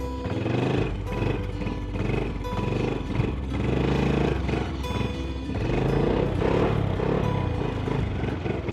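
Loud motorbike engine revving hard and close during a wheelie in outback Australia, rising and falling in pitch with clattering mechanical noise throughout.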